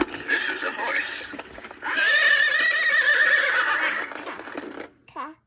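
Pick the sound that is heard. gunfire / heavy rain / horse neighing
horse neighing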